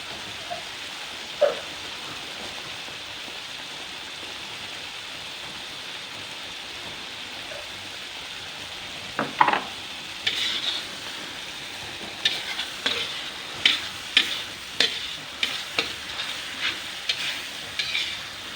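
Red Indonesian spice paste frying in a pan for shredded chicken, a constant sizzle under repeated scraping strokes of a spatula, which grow into a quick regular rhythm in the second half.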